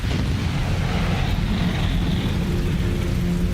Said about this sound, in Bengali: আমাদের মাথার উপর ঝমঝম করে বৃষ্টি পড়ছে